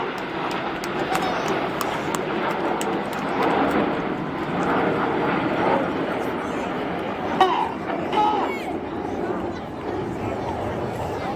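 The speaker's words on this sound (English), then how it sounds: "The inside pilots pitch up to the outside as they fly the rollbacks." Red Arrows display jets flying rollbacks at the 2017 Rhyl air display, a continuous broad jet roar that swells and fades steadily across the sky, with a crowd murmuring underneath.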